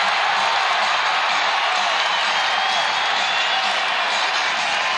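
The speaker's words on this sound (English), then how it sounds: "Crowd's fired up." A college basketball arena crowd in Louisville roars during a Bellarmine versus Jacksonville game, a loud, dense, unbroken wall of cheering voices that stays level throughout.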